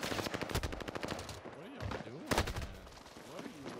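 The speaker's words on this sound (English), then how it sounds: "Enemy is firing at me." Rapid automatic gunfire in Call of Duty Warzone on Rebirth Island, with quick bursts of close shots in the first second and again at about two and a half seconds. A voice talks between and over the bursts.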